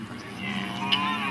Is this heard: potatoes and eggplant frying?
no